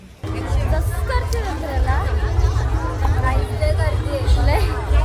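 A dense crowd murmurs and chatters all around at a crowded village fair (jatra) for the goddess Ratneshwari at Jaskhar, a close, continuous babble of many voices that swells after a brief quiet start.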